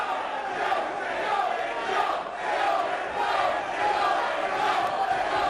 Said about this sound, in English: The crowd getting on AJ Styles